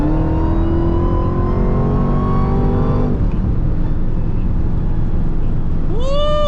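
Dodge Hellcat Charger pulling hard from inside the cabin: loud supercharger whine climbs steadily over a rough engine roar for three seconds, drops off into a broad rumble, then a fresh rising whine sweeps up as it accelerates again.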